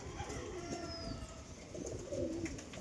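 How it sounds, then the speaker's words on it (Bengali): Male pigeons of a good breed cooing softly and steadily at close range, low rolling coos repeating over faint background noise, with no talking. "নর কবুতর, খুবই ভালো মানের কবুতর"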